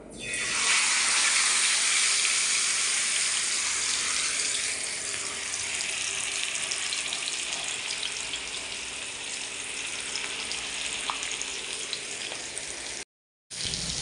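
Marinated, masala-spiced fish pieces frying in hot oil on a tawa, a loud close sizzle that starts abruptly and stays dense and continuous, easing slightly before a brief cut near the end.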